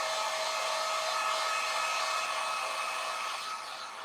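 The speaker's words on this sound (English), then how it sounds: "So I have my heat gun here, and I'm just going to dry this." A heat gun blows steadily over freshly painted Halloween decor made from a fan blade, a loud, even hiss of rushing air that holds for about four seconds and eases slightly at the end.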